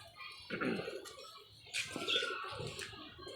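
A pigeon calling at close range, a few short throaty coos and bursts of wing or body rustle over a quiet background.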